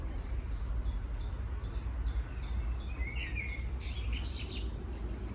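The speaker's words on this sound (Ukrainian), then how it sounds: "пташки співають" Small birds chirp and trill at a distance over steady outdoor background noise in a botanical garden in Riga, Latvia, with brief bright calls scattered through the middle.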